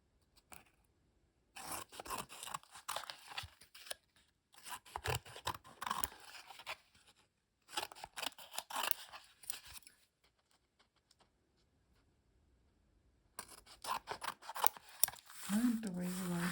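Scissors snip along the clean edges of a dried paper collage in several bursts of close, soft cutting and rustling, separated by quiet pauses.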